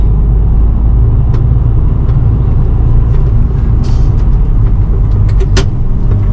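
Heavy truck in Europe pulling away, a loud continuous low engine rumble close by with occasional clicks and brief sharp hisses over it.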